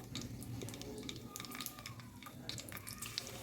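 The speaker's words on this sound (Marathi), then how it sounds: "तर याच तेलात मी टाकून घेते लसणाच्या पंधरा वीस पाकळ्या" Fifteen to twenty garlic cloves frying in hot oil left from browning eggs for a dhaba-style egg curry, a soft continuous sizzle with scattered small pops, quiet and close.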